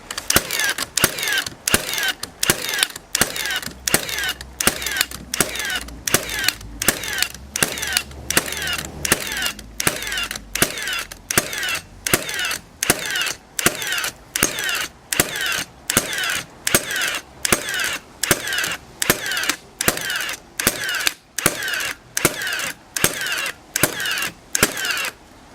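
Framing nailers drive nails into timber in a fast, steady series of sharp pneumatic clacks, dozens of evenly spaced shots close by with a faint hiss between them.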